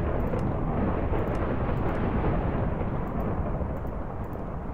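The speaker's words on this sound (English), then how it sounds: "Oh my fucking shit, lightning." Minecraft thunder during a lightning strike, a loud continuous rumbling roar that fills the whole stretch with heavy low-end noise and no speech over it.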